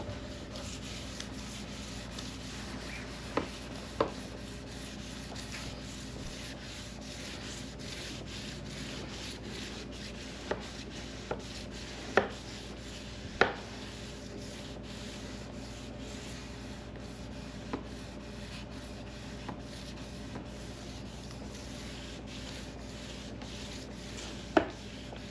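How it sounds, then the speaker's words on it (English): Steady, gentle wet sanding of a finish with a sander continues throughout, broken by a few sharp clicks and taps. "when we're wet sanding, it's more gentle than dry sanding"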